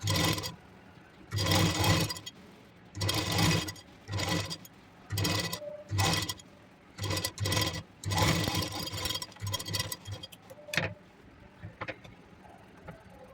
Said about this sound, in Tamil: பொறுமையாக அது எப்படி இருக்கோ அதே மாதிரி வச்சு ஸ்டிச் பண்ணிகிட்டே வாங்க